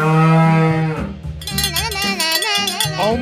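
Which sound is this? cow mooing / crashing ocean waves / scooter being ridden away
cow mooing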